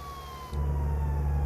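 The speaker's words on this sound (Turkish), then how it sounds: "Gel lan buraya aç sireni." An emergency vehicle siren in Euro Truck Simulator 2 multiplayer kicks on abruptly, wailing steadily over a low engine rumble, loud and close.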